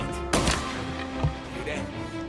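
Gunfire in Mafia: Definitive Edition: one sharp, loud shot opens the exchange and a fainter shot follows about a second later, over a game soundtrack with voices shouting nearby.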